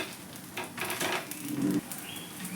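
White oil and potato masala sizzling on a dosa in a hot pan, a close steady hiss with a brief louder burst of frying and some soft scraping, no voices.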